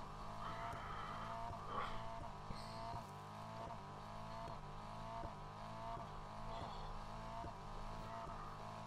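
Car engine in the racing video game NFS Heat revving continuously in a repeating rise-and-drop pattern, loud and close, with gear shifts and no talk.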